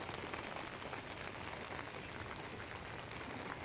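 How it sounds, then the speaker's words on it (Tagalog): Steady rain pours down outdoors, a dense, even hiss of drops striking surfaces that stays loud and unbroken throughout with no voices. "May ulan."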